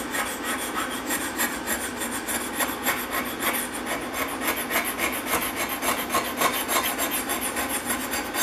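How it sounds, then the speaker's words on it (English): A Stanley No. 85 cabinet maker's scraper plane with a sharp burr shaves a wooden surface in steady, rhythmic back-and-forth strokes, a close, loud rasping hiss repeating evenly throughout. "So the scraping does a fine job."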